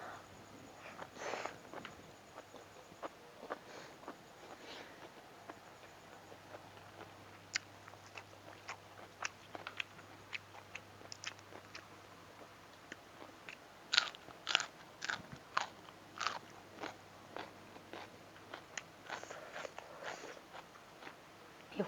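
Crunchy biting and chewing of a Taidam spicy salad of beef tripe with cucumber, close and quiet, with frequent sharp crackly bites and softer mastication over a long stretch.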